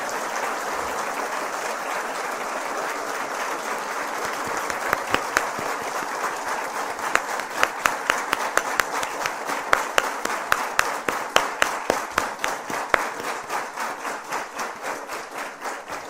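At a women's symposium the audience gives the speakers a long round of applause. It starts as a dense, even roar of many hands and thins into sharper, more distinct individual claps near the end.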